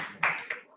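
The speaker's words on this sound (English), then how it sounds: "More clapping." A few claps in a legislative theatre workshop session: two or three sharp, close hand claps in quick succession, brief and fairly faint, then fading.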